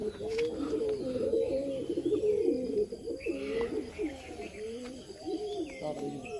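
Low flyer racing pigeons coo in a loft in repeated soft, throaty phrases close by, with occasional faint chirps and background clatter and no voices.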